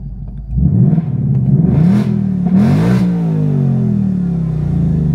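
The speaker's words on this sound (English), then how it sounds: "this is the track exhaust. Let's give it some revs actually." A Ford Mustang Dark Horse with a track exhaust revs hard twice with a loud, rumbling sports exhaust, then settles into a steady, throaty idle.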